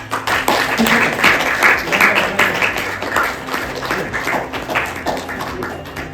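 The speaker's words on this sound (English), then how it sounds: "Guys, please do clap." A crowd at a marathon celebration party at Jio World Plaza in Mumbai breaks into lively applause, steady clapping with individual sharp claps standing out and a few voices mixed in.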